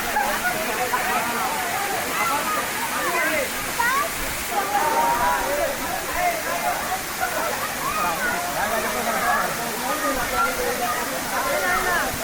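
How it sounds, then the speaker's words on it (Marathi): Nhavankond waterfall, a natural fall hidden in dense green forest, pours with a constant rushing roar while a voice talks over the steady water noise. "हा धबधबा पूर्णपणे नैसर्गिक आणि हिरव्यागार झाडीच्या कुशीत लपलेला आहे."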